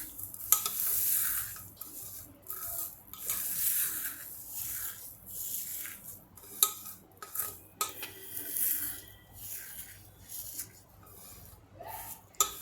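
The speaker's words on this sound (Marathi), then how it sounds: "ही बघा मी हातानेच ही पुदिन्याची पानं उचकरत आहे" Dried mint leaves are picked and stripped by hand, making close, crisp rustling and crackling in irregular bursts with brief pauses between handfuls.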